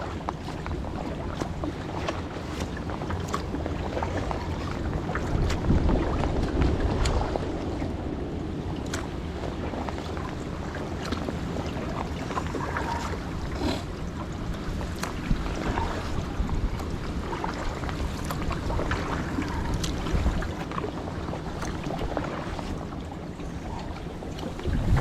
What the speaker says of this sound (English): Wind is definitely hitting now.